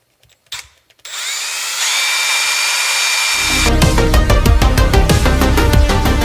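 A power drill whines up and runs steadily, close and loud, drilling out a small part while installing an outer car door handle, settling into a continuous grinding drone with rattling as the bit bites.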